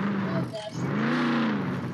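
A Lamborghini engine in a racing video game hums steadily and loudly throughout, with its tone rising and falling slightly, while a person talks over it.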